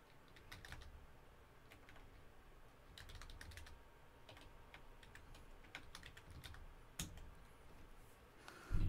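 Quiet, steady typing on a computer keyboard, with bursts of rapid key clicks separated by short pauses, close up and alone with no voices.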